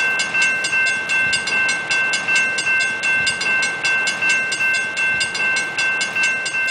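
Train sounds from a Farming Simulator 22 mod: a steady, loud rolling rumble with rhythmic clickety-clack pulses and a sustained bright bell or dinger tone running throughout, no talk.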